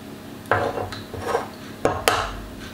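Eggs cracked one at a time against a bowl of mascarpone, a few sharp close taps and knocks spaced through a quiet kitchen.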